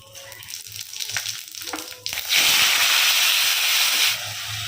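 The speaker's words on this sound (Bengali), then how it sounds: "ওই যে ভাজার পরে তেলটা বেড়েছিল ওটাতেই ভাবছি আলুটা ভেজে নেব" Potatoes fry in leftover oil in a pan: quieter frying and stirring at first, then a loud, steady hiss of sizzling that swells and holds for about two seconds before easing back.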